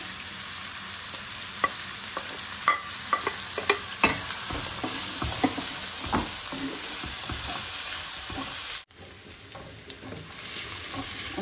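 Onions and green chilies fry in a pan, a steady broadband sizzle under repeated sharp scrapes and clicks of a spoon stirring, with a brief dropout near the end before the sizzle resumes.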